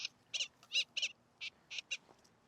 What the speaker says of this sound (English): You can even hear the birds tweeting.